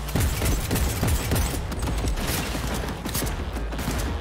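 Dense, rapid gunfire rattles continuously through a shootout in the Cyberpunk video game, with overlapping shots and mechanical clatter and no break for the whole stretch.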